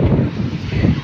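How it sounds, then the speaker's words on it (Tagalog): A breeze by Inya Lake in Yangon, Myanmar, buffets the microphone in a loud, low, fluttering rush that swells and dips over a brief moment. "Parang ganito yung sea breeze."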